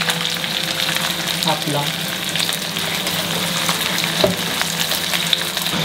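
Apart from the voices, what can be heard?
garlic and onion frying in pan for sweet and sour sauce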